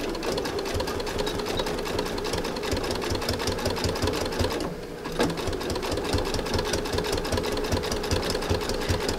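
A sewing machine stitches fabric for a rope urn and lidded bowl, running in a loud, steady mechanical whir with a brief stop near the middle before resuming, close up and without speech.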